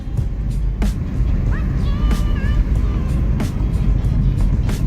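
An old $100 car's engine drones and rumbles loudly from inside the cabin while driving, a constant low roar with a few sharp knocks and a voice talking over it.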